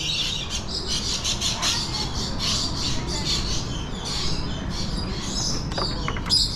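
Birds at Busch Gardens Tampa on a cold November day give repeated sharp squawks and chirps, some close and shrill, over a low murmur of background activity.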